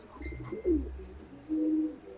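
A racing pigeon coos softly nearby in a loft, two low throaty coos spaced about a second apart, over a quiet background.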